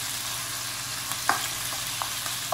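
Lamb pieces with green onions fry lightly in a pan, giving a steady soft sizzle with a few brief crackles and stirring clicks, near and moderately quiet, with no talking.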